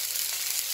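Sausages and beans frying in a saucepan, giving a steady, broad sizzle that holds even and close with no voices.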